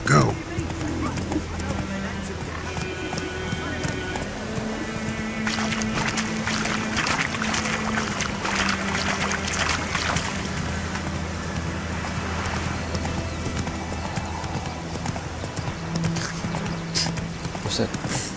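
Hooves of the horse Roach running in The Witcher 3: Wild Hunt, a continuous clip-clop under game music and background sound, with someone talking over it at times.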